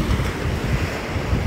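Waves rolling onto the Gulf of Mexico coastline, a continuous low rumbling surge mixed with wind buffeting the microphone, close and fairly loud.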